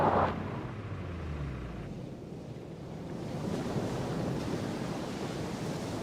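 Surf breaking on a remote, undeveloped beach littered with plastic, a steady wash of waves with wind buffeting the microphone, alone with no voices.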